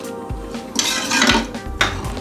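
A utensil scrapes and clinks against the sides of a metal pot in a few quick strokes, stirring rice and green peas with added water for pulao, close and fairly loud.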